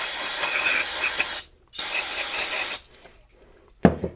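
Aerosol cleaner is sprayed onto an engine cylinder head in two long loud hissing bursts separated by a short gap, followed by a brief clunk.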